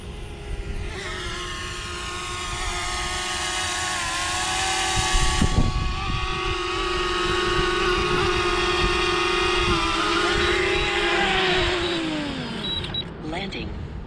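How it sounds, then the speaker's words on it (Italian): A DJI Mavic Mini drone whines steadily with a high, even motor buzz, its pitch sagging at the end as it comes down to land and the motors stop; a voice talks under the sound. "Adesso facciamo riatterrare il drone."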